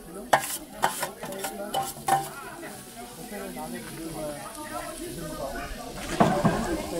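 Onions roasting on a Monolith Icon grill, hissing steadily up close, with a few sharp clicks and scrapes of a utensil at the start.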